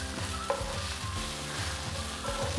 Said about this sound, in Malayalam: ഒരു ടീസ്പൂൺ മഞ്ഞൾപ്പൊടി ഇതും കൂടി ഇട്ട് നന്നായിട്ടൊന്നും കൂടെ ഇളക്കാം